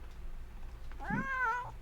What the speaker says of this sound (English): Don't attack, you stupid cat.